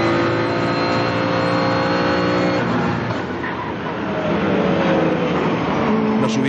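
Racing cars accelerate on the Vallelunga circuit in a SuperStars touring-car race, the loud, close, continuous engine roar rising and shifting in pitch as several cars pass.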